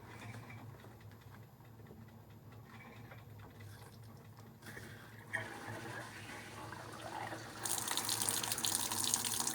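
Smart Drive washing machine set to cold and low water level, its water valve opening to fill the bowl, a quiet steady rush that swells into a louder hiss of running water toward the end.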